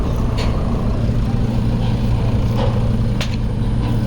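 A truck or similar heavy road vehicle rumbles steadily close behind on a rural road during sugarcane harvest work, its low engine drone continuous throughout with faint voices in the background.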